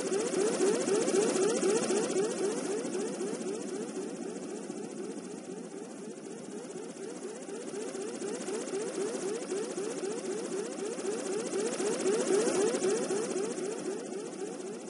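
Flying drones from a Unity video game toolkit give off a continuous buzzing, pulsing propeller whir that swells and eases slightly, steady and fairly loud, with no talking.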